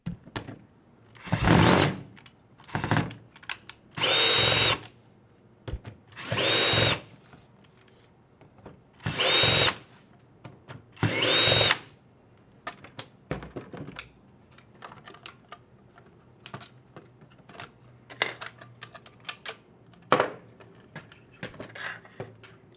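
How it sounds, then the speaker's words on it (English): A cordless drill fitted with a Phillips bit unscrews the bottom panel of an Intel NUC, several short whirring bursts separated by pauses, followed by lighter clicks and handling of small parts, close and alone. "take a Phillips head screwdriver bit and stick it into a drill"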